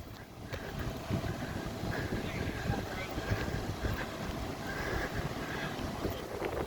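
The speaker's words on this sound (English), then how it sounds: "the wind's changing direction and picking up now" Wind gusts at an outdoor structure fire, a low, continuous rumbling roar buffeting the microphone, with distant fire hose and engine noise beneath.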